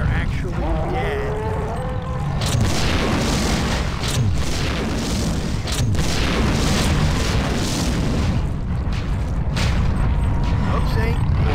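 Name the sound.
Psy Reaver exploding in the video game System Shock 2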